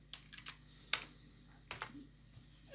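Typing on a computer keyboard: a short burst of a few light, close key clicks in an irregular rhythm with one sharper tap, in an otherwise quiet room.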